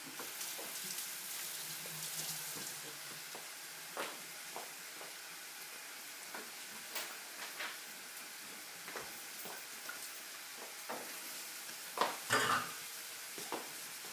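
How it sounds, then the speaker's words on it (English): Kale sautéing and being stirred in a pan with a little lemon, a soft continuous sizzle broken by scattered light clicks and scrapes of stirring, steady and fairly quiet throughout. "Going to add more kale here and just mix it in."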